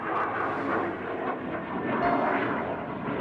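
Airliner taking off from Istanbul Atatürk Airport on the first transfer flight, a loud, steady broadband engine roar that swells slightly, heard alone without voices.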